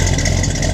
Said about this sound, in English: I'll pull around so you can hear the exhaust a little better.